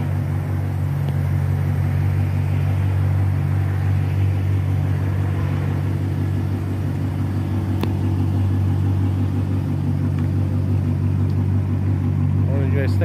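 A Dodge Challenger sits at a loud, steady, lumpy chopping idle, its deep engine rumble continuous and close while people talk over it.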